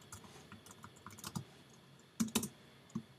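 Fingers tap a computer keyboard in irregular bursts of soft clicks, with a few louder keystrokes clustered near the end, close and alone without talk.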